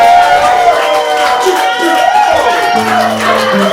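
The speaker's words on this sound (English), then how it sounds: "Everyone give a round of applause for Dylan Jones!" Audience at a comedy house show cheers and whoops for a comedian, a loud mix of crowd voices and shouts filling the room for several seconds.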